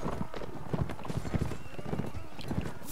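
Horse hooves clip-clop at a quick, steady gallop in the Mount & Blade Warband video game, with a voice talking over the continuous rhythm.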